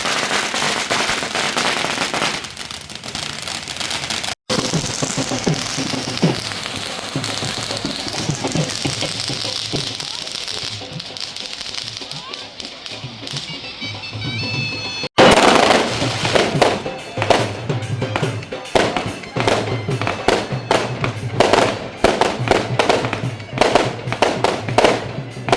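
Fireworks and firecrackers at a Pakistani wedding crackle and pop densely for a long stretch, with sharp bangs, a brief lull with whistling, then an even louder continuous barrage of rapid cracks.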